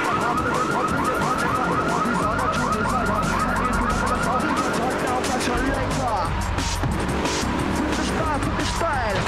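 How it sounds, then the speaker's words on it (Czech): Several car alarms whoop and wail repeatedly in the GTA III video game (PS2 version), loud and steady, layered over engine rumble and game street noise. "Proč tam jsou furt ty alarmy skurvení?"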